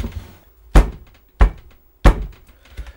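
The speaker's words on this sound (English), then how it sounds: "That was me banging my head on the table for that." Three heavy, dull thuds of a head banging on a table, evenly spaced about two-thirds of a second apart, loud and close with quiet gaps between.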